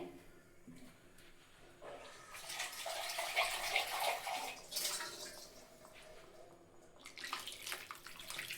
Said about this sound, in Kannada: ನಿಮ್ಗೆ ಎಷ್ಟು ಬೇಕು ಅಷ್ಟು ನೀರನ್ನ ಹಾಕ್ಕೊಳ್ಳಿ.